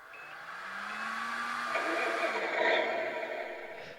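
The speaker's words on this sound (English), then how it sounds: "When we power the truck up, the MFC starts up and the fan in the smoker revs up, then the truck settles down to a nice idle." A Tamiya Ford Aeromax RC truck powers up, its smoker fan whirring up to a high pitch before the simulated engine settles into a steady idle, moderately loud and close.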